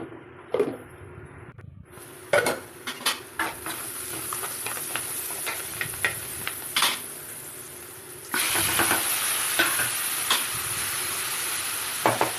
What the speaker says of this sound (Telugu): కొంచెం సాల్ట్ వేసి అల్లం, పసుపు వేసి కలుపుకోండి